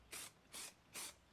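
Spray adhesive is sprayed onto an old board for fuel tank straps on an MGC: three short, even, hissing bursts, close and evenly spaced.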